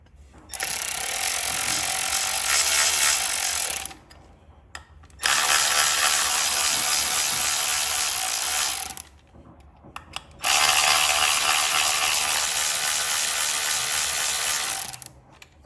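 Hand tool spinning in the intake manifold bolts of a 2023 Harley FLHXS during a Screamin Eagle 55mm manifold install: three sustained bursts of rapid ratcheting, each several seconds long, separated by short pauses.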